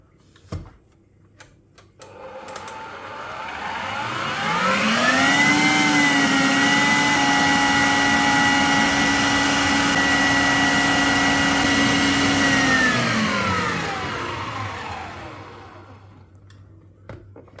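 An electric hand mixer whisks four room-temperature eggs with one and a half cups of granulated sugar until creamy, a steady motor whine that ramps up, holds even and loud for about eight seconds, then winds down.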